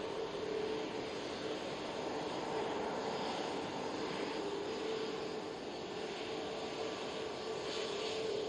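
A Boeing 737 MAX 8 jet departs an airport, heard as a steady, distant engine drone that holds at a fairly low level without rising or falling.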